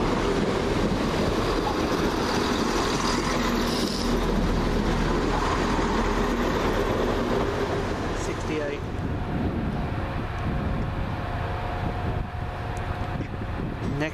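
A Chiltern Railways class 165 diesel train pulls into London Marylebone to terminate, a loud, steady rumble mixed with wind buffeting that eases slightly after about eight seconds.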